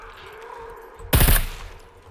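Full-auto gunfire in the video game SCUM: one loud, close burst of rapid shots lasting about a quarter second, rising abruptly out of quiet game ambience and then fading away.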